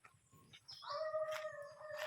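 A dog howls in a long, wavering cry that rises and holds, close by in a wooded mountain area, with a low rhythmic rumble underneath and no talking.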